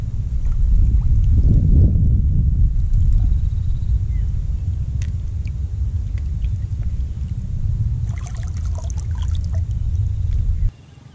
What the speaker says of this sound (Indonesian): Ombak dari perahu yang lalu lalang.